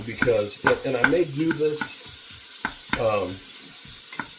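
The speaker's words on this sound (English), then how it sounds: "we've got our bacon that's in here sizzling" Bacon sizzles in a pan as a soft frying crackle beneath a voice, with faint stirring clicks between his words.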